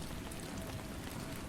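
Steady soft rain falling on a roof, a dense even patter of drops that runs throughout, quiet and with no speech over it.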